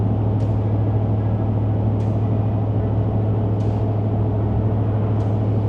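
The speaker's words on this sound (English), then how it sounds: "There is a little bit of drone inside the cab, but it's not an irritating drone, it's just like a low rumble." Steady low exhaust drone from a 2021–2025 Ford F-150 fitted with a Flowmaster Outlaw muffler, heard inside the cab while driving: a continuous deep rumble with constant road noise and a few faint ticks, no talking.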